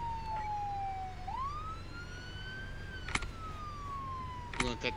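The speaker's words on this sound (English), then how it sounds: "You want to cut the sirens?" A police car siren wails in long rising and falling sweeps, loud and close, over steady road and engine rumble, with a couple of short sharp bursts near the end.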